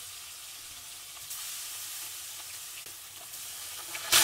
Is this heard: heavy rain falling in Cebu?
no